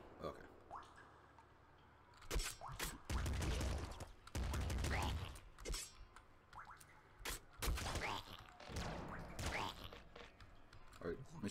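Machine gun firing in a video game, several loud sustained bursts of rapid shots with sharper single cracks between them, close and punchy, alternating with quieter stretches where a voice talks.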